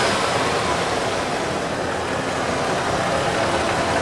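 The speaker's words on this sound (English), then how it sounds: "It sounds like a 302 instead of a 5-cylinder" A 1989 Ford F-150's 302 V8 idles close by, a steady, dense broadband rumble with no pauses or changes over a few seconds and no voices.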